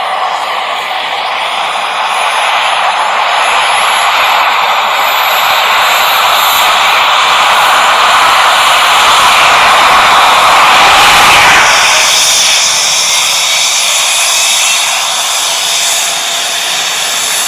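Helicopter rotors spin up in a loud, continuous broadband roar that swells over several seconds, peaks, then eases slightly, heard close with no talking.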